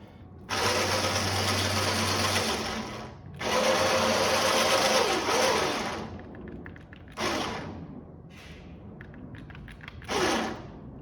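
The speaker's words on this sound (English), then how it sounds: "Yeah, got a winch." An electric winch whirs on an RC model Jurassic Park Jeep in two long, loud runs, followed by several shorter bursts and a final brief pull, with quiet pauses between.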